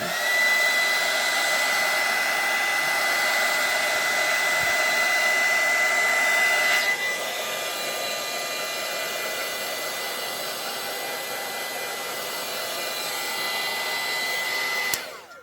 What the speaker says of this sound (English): I am going to use the dryer to dry the glue